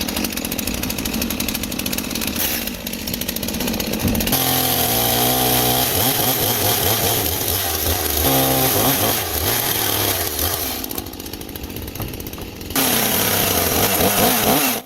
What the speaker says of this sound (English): leveling the edges of the timber with a chainsaw